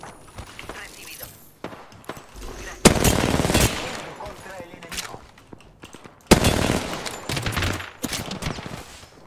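Bursts of automatic gunfire in the shooter Apex Legends, loud clattering volleys with two heavy onsets and short pauses between, under faint game sounds.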